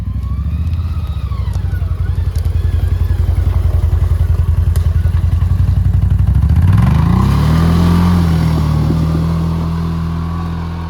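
A CFmoto Cforce 1000 ATV engine runs close by with a loud, low, rapid idle pulse, then revs up smoothly and holds at a higher, steady drone.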